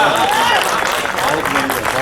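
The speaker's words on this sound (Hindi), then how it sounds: "ये तालियों का शोर कभी और देखूंगा" Applause from an audience at a Hindi poetry recital (kavi sammelan) in Greater Noida, a loud, continuous wash of clapping and crowd noise filling the whole moment, with a voice carrying over it.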